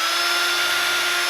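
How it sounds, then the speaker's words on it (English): A power drill bores holes through leather for a knife scabbard, a loud, steady high whine that holds constant at close range without any talking. "when you're drilling your holes right here, try to make sure you go straight"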